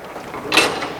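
A steel door handle on the box body of a Shacman L3000 truck is pulled open, giving one short metallic clack and rattle in a quiet outdoor setting, with no talking.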